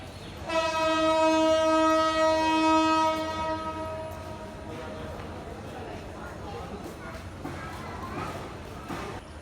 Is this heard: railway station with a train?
yes